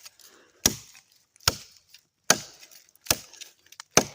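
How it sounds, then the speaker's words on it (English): An Atayal XL fighter knife with a choil chops into hemlock wood, landing five sharp, loud, woody strikes at a steady rhythm about a second apart, with short quiet gaps between blows. "There are limitations to this knife in the chopping department"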